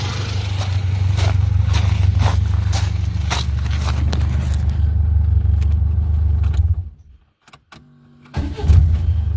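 A Lada 1118 with a 1.6 engine runs after a cylinder head repair, a loud, close, steady idle rumble that cuts off near the end, then a brief mechanical clunk and the engine noise returns.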